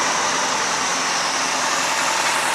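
A 2004 Yamaha FZ6 motorcycle with about 19,000 miles idles after a hot ride, giving a steady, loud, close engine drone with no change in pitch and no voices.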